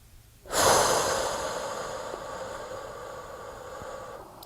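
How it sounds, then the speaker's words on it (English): One deep, full breath during a guided meditation: a sudden strong rush of air that peaks early, then tapers slowly over several seconds, close and clear, with no speech. "So breathing in fully as you're ready."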